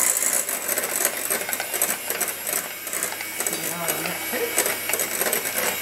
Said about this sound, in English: this takes a bit of whisking because you're wanting to dissolve your sugar as best you can